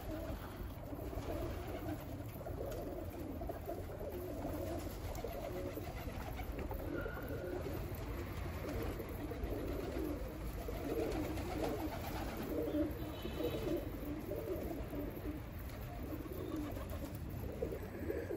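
Tumbler pigeons coo softly and steadily outdoors over a constant background hum, with the low murmuring calls continuing throughout.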